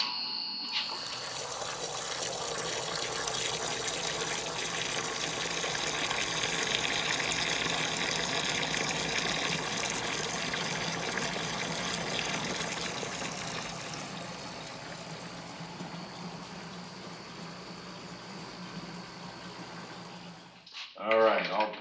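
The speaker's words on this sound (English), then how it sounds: "Going with the pump was a nice upgrade for the system for sure" A homebrewing system pump hums steadily while water rushes and gushes through tubing for a long stretch, ending with a brief clunk and rattle.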